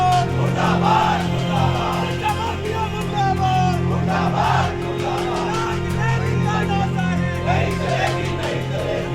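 A protest crowd in the street against a school shouts and chants together, a dense roar of many voices with rhythmic yelled slogans rising and falling throughout.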